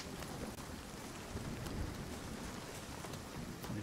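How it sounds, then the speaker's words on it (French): Steady rain in the survival game Nightingale, a dense even hiss of falling drops with a faint low rumble underneath, continuous throughout with no voices. "On est bien protégé de la pluie."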